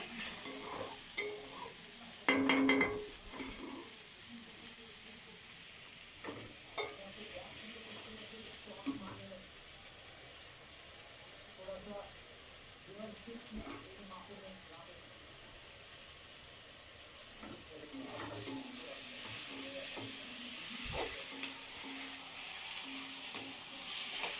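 Onion and garlic frying in a pan, a low steady sizzle with occasional stirring clatters and utensil knocks, fairly quiet and continuous, with brief bursts of louder scraping near the start and toward the end.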